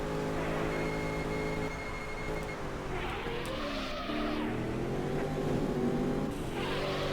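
Racing car engine in the Auto Modellista video game, droning and rising in pitch as it accelerates from low revs through a gear, steady and loud throughout with a shifting whine.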